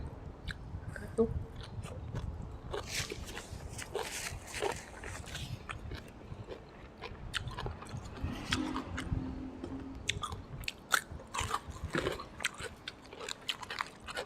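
Close chewing and biting of sticky rice with pork belly and bamboo shoot dishes, irregular moist crunches and smacks with faint clinks and background rustle.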